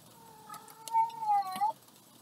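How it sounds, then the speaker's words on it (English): A cat in heat gives a drawn-out, wavering meow, loud and close with a couple of rising and falling swells, and faint background noise around it. "my cat is still in heat"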